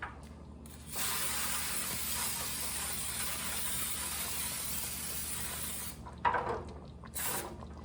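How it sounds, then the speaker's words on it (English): Baker's Joy baking spray hisses steadily into a pan for about five seconds, a close, even aerosol rush, followed by two short, sharper puffs of spray. "Spraying that with Baker's Joy."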